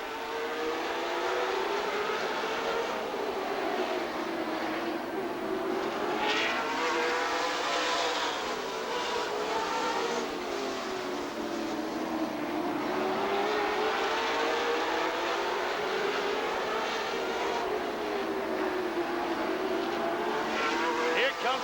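Race cars roaring around the Rockford Speedway oval, a loud continuous engine drone rising and falling in pitch as cars pass, with a race commentator talking over it.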